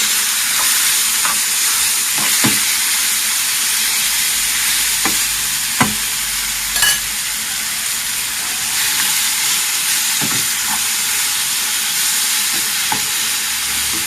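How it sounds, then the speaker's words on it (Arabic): Chicken pieces frying over high heat in a pan give a loud, constant sizzle and hiss, broken by a few sharp clinks and scrapes from stirring, close up with no voices. "غادي نحركو هكا نبدا نقليو فيه حتى صافي كيتقلى لينا"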